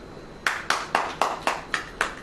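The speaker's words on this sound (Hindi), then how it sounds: "ताली बजाओ" A church congregation claps hands in unison, seven sharp, evenly spaced claps at a brisk steady rhythm, close and loud with no voices.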